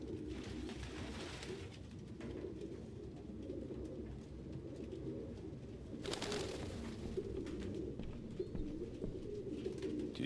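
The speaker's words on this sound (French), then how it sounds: "aucun humain ne pourrait vivre avec autant de pigeons" A flock of pigeons coos steadily and densely inside an apartment in the video game Detroit: Become Human. The soft, overlapping calls continue without pause and carry no speech.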